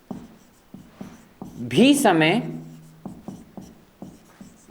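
A pen scratches steadily across paper as notes are written, with short strokes recurring at a regular pace and a voice speaking over part of the writing.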